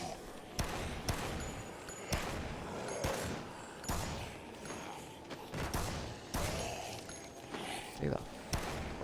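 Pistol gunfire in the video game Dead Rising: about ten sharp, loud shots fired at irregular intervals over a steady bed of game noise, with a voice talking faintly between the shots.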